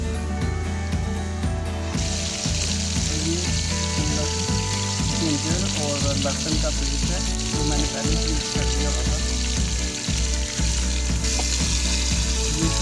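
Beef sizzling in a cooker on a stovetop with ginger garlic paste, a loud steady frying hiss that intensifies partway through, with a person talking over it.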